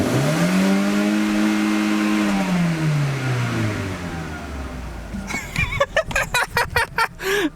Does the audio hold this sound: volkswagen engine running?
yes